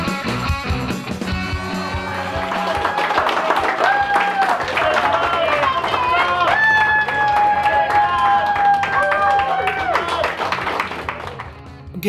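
A crowd claps and cheers for someone finishing a towering 15-patty cheeseburger eating challenge in Newcastle, Australia, with sustained applause and whoops blended with music and a talking voice, fading near the end.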